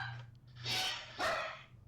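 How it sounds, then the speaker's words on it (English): Two short barks from a dog at moderate distance, about half a second apart, over a low steady hum. "the dog's going, barking."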